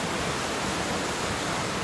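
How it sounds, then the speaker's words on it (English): Steady broadband rush of water at the Banyas stream waterfalls, a continuous loud roar of falling and flowing water with no break and no voices. "Can you hear the water? I'm like at the streams of Banyas, it's called, waterfalls."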